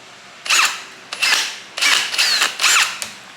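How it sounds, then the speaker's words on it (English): A power drill whirs in five short, loud bursts, each rising and dropping in pitch as it bites into wooden trim on a Jeep Gladiator, with brief pauses between. "let's drill a hole."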